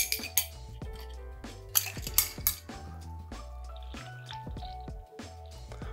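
Fresh lime juice poured for a cocktail: a run of small drips and splashes mixed with light glassy and metallic clinks, close and quiet, scattered irregularly.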